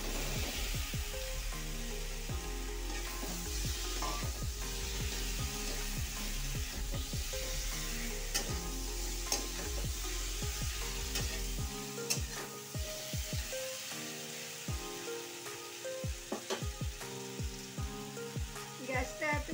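Fried potato and pumpkin pieces are tipped into sizzling spices in a pan for a vegetarian drumstick curry, with loud continuous frying sizzle and repeated sharp scraping and stirring clatter of a spatula close by.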